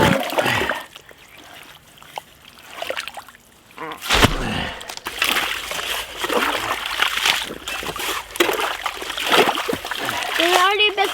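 Water splashing and sloshing as it flows out through a freshly dug ditch on a homestead, with bursts of splatter and trickle close by, mixed with people talking and a sharp knock partway through.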